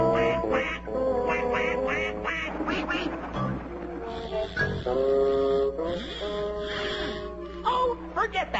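A hypnotized Tom and Jerry cartoon character quacks like a duck in a rapid, nasal string of loud quacks, a voice imitating the bird. Brief gasps and pauses break up the quacking.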